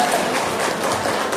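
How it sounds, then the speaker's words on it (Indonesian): An audience at a family mental health parenting seminar breaks into applause, a steady, even patter of many hands clapping that fills the short span at moderate loudness. "Luar biasa, tepuk tangan."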